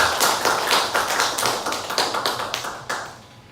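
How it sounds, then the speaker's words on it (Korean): An audience at a civic peace-academy lecture in Boryeong claps to welcome a lecturer: a burst of scattered, fairly close hand claps that thins out and fades toward the end, with no talking. "한참 박수 부탁드리겠습니다."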